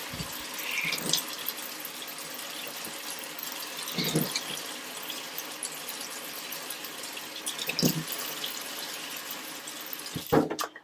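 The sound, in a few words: water running onto hands to wet pudding basin rim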